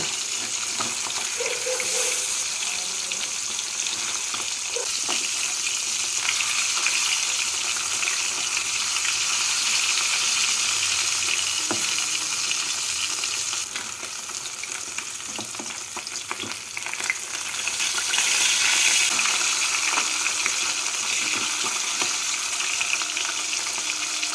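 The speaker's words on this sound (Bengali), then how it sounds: "মাছগুলোকে উল্টে পাল্টে লাল করে ভেজে নেব" Parshe fish frying in mustard oil, a continuous loud close sizzle with occasional scraping and clicks as the pieces are turned, the crackle swelling slightly near the end.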